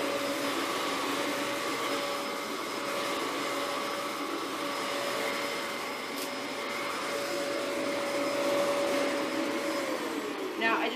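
A Hoover upright vacuum cleaner runs with its brush bar spinning, a steady close drone with a constant whine that holds evenly throughout.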